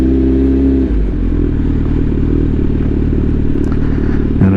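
A Kawasaki Z900 motorcycle rumbles steadily at low speed during slow maneuvers, its engine note close and continuous with slight pitch shifts and a brief dip near the start, no talking.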